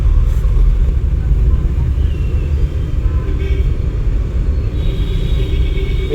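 A car engine accelerates in second gear during a driving lesson. A heavy, steady low rumble from inside the cabin continues throughout without letting up.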